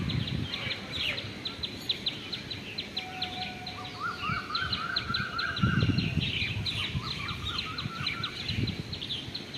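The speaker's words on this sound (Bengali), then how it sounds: "পাখির যে আওয়াজগুলো করছে দারুণ লাগছে।" Several birds sing and chirp at sunrise from a rooftop, bright repeated calls and trills overlapping over a low outdoor hum, with occasional rustles and thuds nearby.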